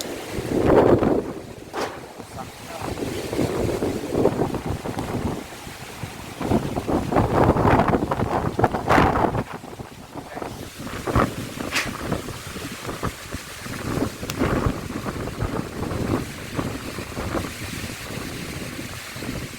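Strong wind roars across the microphone in buffeting gusts, a dense rumble that rises and falls throughout with no voices.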